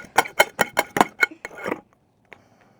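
A spoon stirring slime mixture in a bowl, with about seven quick rhythmic clinks against the bowl followed by a softer scrape, then near silence.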